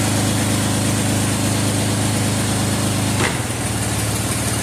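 A Ford C6 automatic transmission runs steadily through its gears with an even mechanical hum and engine drone, then drops abruptly to a lower, rougher tone near the end.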